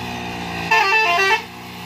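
A bus horn blares for about half a second, loud and close, over the steady hum of a passing bus on a winding road in Garut.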